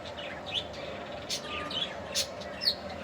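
Pigeons being fed, with bird calls and brief chirps repeating over a steady background hum; the calls are moderately loud with no talk.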